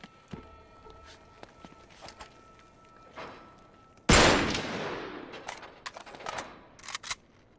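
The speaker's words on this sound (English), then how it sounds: "Back up, I'll shoot the lock." A single loud gunshot fired at a door lock in the video game Uncharted 3, a sharp blast with a long decaying tail, preceded and followed by quieter game footsteps and ambient clatter.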